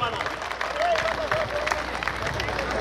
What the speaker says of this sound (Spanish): regálame de fuerte el aplauso